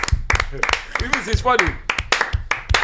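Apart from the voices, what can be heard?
audience applause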